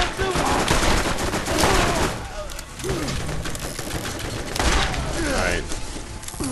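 Rapid gunfire in Borderlands, dense volleys of shots crackling in bursts throughout, loud and near, with pauses and swells between the barrages.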